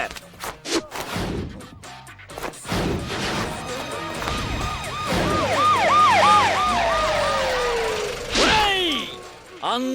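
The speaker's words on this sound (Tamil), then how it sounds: "சிட்டி ஆர்டிஎக்ஸ் காலேஜுக்கு இமிடியேட்டா ஒரு ஆம்புலன்ஸ் அனுப்பி வை" An ambulance siren wails loudly and close in a Tamil film scene, its rising and falling tones sweeping repeatedly after a crash-like jolt and brief voices, then sliding down as it passes.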